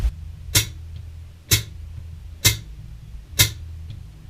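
A slowed-down drum lick in a right, left, left, kick pattern, heard as four sparse, evenly spaced sharp hits about a second apart, moderately quiet and alone over low background hum.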